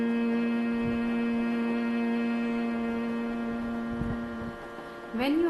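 Voice-tuning exercise: a sustained hummed note held steadily for about four seconds, fading out, followed by a brief rising vocal slide near the end.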